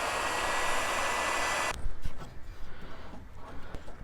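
Heat gun blowing hot air over heat shrink tubing on wire connections during a Ford F-150 backup camera install: a loud, steady broadband hiss runs for under two seconds, then cuts off, leaving faint handling noises.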